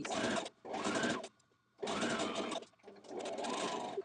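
Sewing machine stitching the side seams of a dress, two long runs of rapid whirring stitches separated by a brief pause, close and steady.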